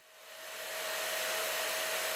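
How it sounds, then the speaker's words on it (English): Shop blaster cleaning corroded junkyard parts, a loud steady rush of air and grit that swells over the first second and holds, with a faint whine underneath. "the shop blaster is very good, it gives a uniform finish"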